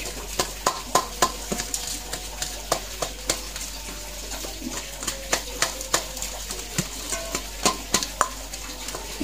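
Repeated soft squelching and scraping of a thick carp fishing bait mixture being mashed and stirred, steady irregular strokes close by, with no talking.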